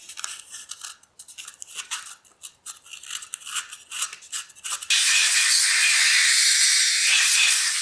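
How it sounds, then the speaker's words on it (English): Crocus cloth rubs and polishes inside the accelerator pump well of a 1962 AMC Rambler carburetor, giving irregular close scratchy strokes that then turn into a loud, steady hiss for the last few seconds. "polishing up the well with this crocus cloth just helps it do its job"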